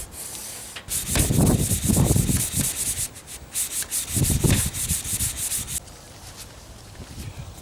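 Sandpaper rubbed against the wood of a nylon-string acoustic electric guitar part being smoothed, heard as repeated close scratchy strokes in bursts, with pauses between passes and no talking.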